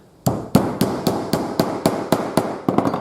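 Hammer blows striking while a buff stick for sharpening knives and tools is made, about ten sharp, evenly spaced bangs close up, ending in a quicker cluster of lighter taps.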